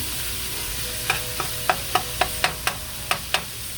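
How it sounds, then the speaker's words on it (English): Ground pork browns in a frying pan for egg rolls under a soft steady sizzle, while a utensil clacks against the pan in a run of about ten sharp, close strokes. "Once that pork starts to brown, gets pretty close to being done, then we'll start adding our other ingredients."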